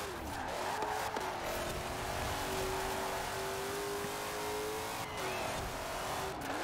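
A '68 Firebird accelerates in the racing game Forza Horizon 4, its engine holding a steady, rising drone for several seconds with a brief dip near the end, with no talk over it.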